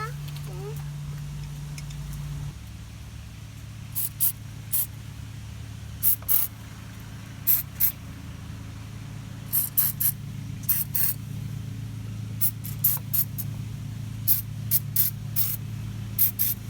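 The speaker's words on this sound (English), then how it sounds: "I'll put some lubricant on the moving components here, and a little bit on the face of this bearing to make the drum come off easier next time" Aerosol lubricant sprayed onto the moving drum brake parts of a 2015 Chevy City Express, in short hissing bursts scattered over a low steady background hum, close and moderately loud.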